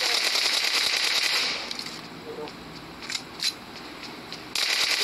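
Loud, rapid gunfire erupts close up in the PUBG Mobile video game, with further scattered shots after a short break, as a player talks excitedly over the fighting.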